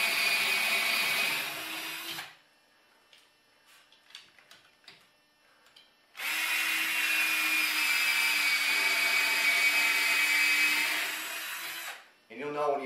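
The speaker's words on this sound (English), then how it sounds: "you'll know when you hit stud or not by just the stress of the drill" A power drill whines steadily for a couple of seconds while drilling pilot holes into a wall stud, stops during a pause with light handling noises, then drills again for several seconds.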